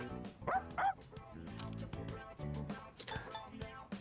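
A dog in the Persona 3 Reload video game yips and barks in a couple of short high bursts over a steady game music track, with light whimpering sounds, fairly faint.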